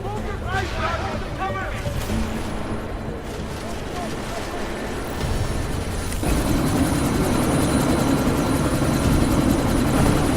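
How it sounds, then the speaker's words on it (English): Helicopter from the Deus Ex Mankind Divided game starting to lift off, a dense rotor roar that grows louder and heavier partway through, with a voice calling out over the noise. "That chopper's about to take off!"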